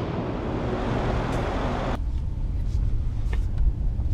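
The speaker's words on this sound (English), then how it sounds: "So let's drive the new S63 and see how this big tank feels on the road." A 2015 Mercedes-Benz S63 AMG with a 5.5-liter twin-turbo V8 cruises on the road, giving a steady, dense rumble of engine and tire noise that turns noticeably quieter and more muffled partway through.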